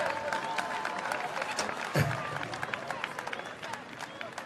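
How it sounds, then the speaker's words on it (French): A crowd at an anniversary event in France claps and cheers as a guest arrives, lively applause with babble and chatter mixed in, a brief thump midway, voices talking throughout. "on va l'applaudir très fort, mesdames et messieurs"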